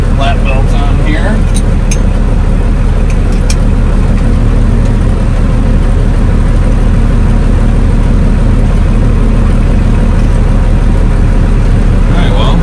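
A pickup truck's engine runs steadily while pulling a semi-trailer, producing a loud, continuous low drone throughout with occasional speech over it.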